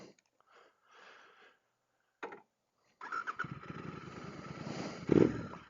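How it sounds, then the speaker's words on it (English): Royal Enfield GT Continental 650 fitted with an S&S 865 big bore kit fires up after a few faint knocks, its exhaust settling into a loud, steady rumbling idle close by with one sharp blip near the end. "Oh, right off the get-go, the exhaust note sounds so much better."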